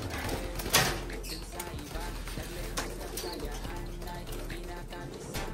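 Pigeons coo in soft, repeated throaty calls close by, with murmuring voices and scattered rustles around them.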